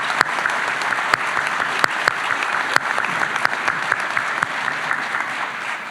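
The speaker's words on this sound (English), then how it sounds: "And let's give them a round of applause already." A crowd at a medical school white coat ceremony claps steadily, with a continuous bed of applause punctuated by several sharp, close individual claps.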